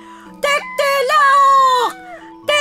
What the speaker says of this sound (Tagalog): Tumilaok ng malakas si Tandang para magising ang Araw.